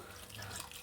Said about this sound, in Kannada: ನೀರು ಸೇರಿಸ್ಕೋಬೇಕು.